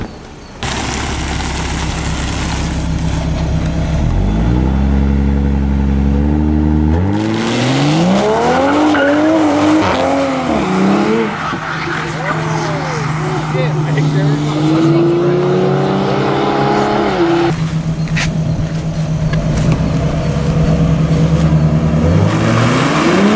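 A 2020 Toyota Supra launches hard on a quarter-mile run, its engine rising loudly through several gear shifts with a brief tire chirp. Engine noise stays close and continuous throughout, and a voice speaks over it.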